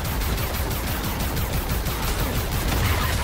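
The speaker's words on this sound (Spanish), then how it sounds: "porque los veo venir, los disparos" Gunfire from the shooter game Far Cry 5 crackles in a dense, continuous fusillade, loud rapid bursts blending together without speech.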